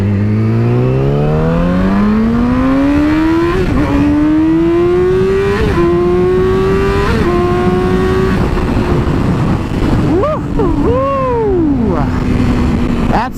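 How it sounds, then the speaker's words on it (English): A Yamaha R6 sport motorcycle's exhaust pulls hard through several gears, its high engine note climbing and briefly dropping at each upshift, loud and close, before easing off and settling into a lower drone. "I'm going to open it up for you guys so we can hear this exhaust."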